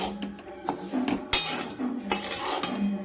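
Barnyard millet (varai) roasting in a pan, with a utensil scraping and clinking against the metal in several distinct strokes over a faint background sizzle.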